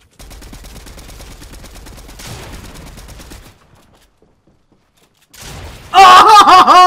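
Fortnite gunfire rattles in a fast automatic burst, then cuts out to near silence before another burst and loud, overlapping bangs close to the end.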